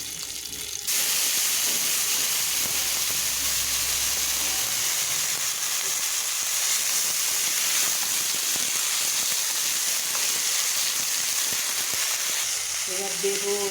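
Leafy greens hit a hot pan with black cumin and burst into a loud, sustained hiss and sizzle that continues steadily, with faint handling noises near the end.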